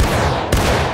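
Musket volley in the Civil War video game War of Rights, a loud close burst of massed gunfire breaking out halfway through a continuous din of battle noise.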